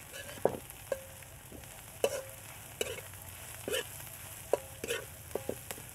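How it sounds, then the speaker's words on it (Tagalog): A banana heart dish being stirred in a pan, several sharp scrapes and clanks of a spoon against metal at irregular intervals over a faint steady sizzle, close with no talking. "Haluin po ulit natin"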